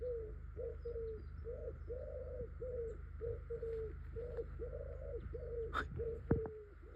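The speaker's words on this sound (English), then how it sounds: "wood pigeon." Wood pigeon cooing in a repeated rhythmic series of soft, hooting phrases close by outdoors near a buddleia bush, steady over a low background rumble, with a couple of sharp knocks near the end.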